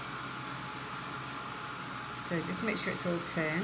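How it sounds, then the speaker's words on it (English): Constant airy blowing hiss from a heat gun runs throughout, with a person talking over it near the end. "And I'll turn the heat gun off."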